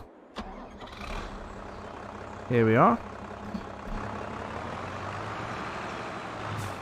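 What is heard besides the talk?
tractor engine in Farming Simulator 22 video game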